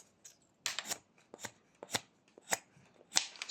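A knife slicing wood while whittling a small cat figure, giving a series of close, crisp shaving cuts spaced roughly half a second apart, each a short scraping stroke over quiet background.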